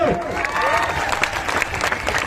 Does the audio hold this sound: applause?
yes